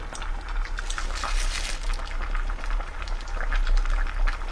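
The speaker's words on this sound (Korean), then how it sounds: "여러분은 지금 감자탕 끓는 소리를 듣고 계십니다" A pot of Korean pork back-bone stew (gamjatang) bubbles and simmers steadily, a dense crackling hiss with a low rumble beneath, close and continuous.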